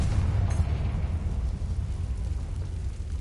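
Confringo blasting spell in the video game Hogwarts Legacy, a loud rumbling explosion with a sustained low boom that rolls on for several seconds without pause.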